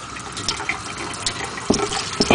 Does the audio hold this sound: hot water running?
yes